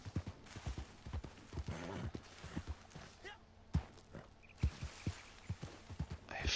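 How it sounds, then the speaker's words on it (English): Horse hooves in the Red Dead Online video game, irregular thuds and clops as the mount skids down a hillside, with a player talking over them. "So glad my horse can skid down hills."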